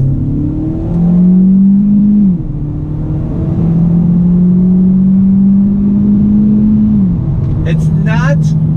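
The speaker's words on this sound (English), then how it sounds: "It's not a real noisy engine, so to speak. There is some exhaust tone coming." A 2019 Hyundai Elantra Sport, front-wheel drive, accelerates through a U-turn, its engine and exhaust droning in a steady mid-pitched hum that rises, dips between gears and climbs again, heard from inside the car.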